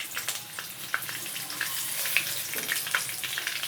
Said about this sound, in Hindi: अब हम इसमें ऐड करेंगे 1 चम्मच साबुत धनिया और 1 चम्मच साबुत ज़ीरा।